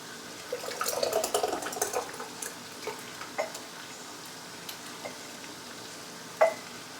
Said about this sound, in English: so I am just going to pour this into the jars.